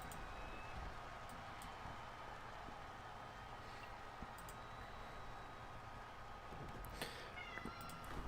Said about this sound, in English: The cat's screaming at me.